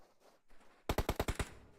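Rapid automatic gunfire in a PUBG Mobile match, a burst of about seven loud close shots in quick even succession after a quiet moment.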